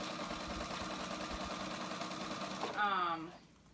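A sewing machine stitches sweater knit fabric in a steady, rapid mechanical whir that runs continuously, then a voice briefly rises over it near the end as the motor winds down and stops.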